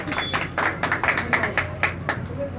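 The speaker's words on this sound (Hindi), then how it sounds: "ताली हो जाए एक बार जोरदार" Applause ripples through an audience at a committee's talent award ceremony, a brief run of clustered claps, fairly close and steady, without talk.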